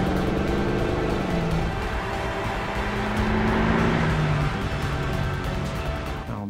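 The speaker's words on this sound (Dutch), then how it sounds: "Er kwam een auto aan met een zware motor" A car with a heavy engine approaches, its loud, continuous engine roar rising and shifting in pitch as it draws nearer, with no talk over it.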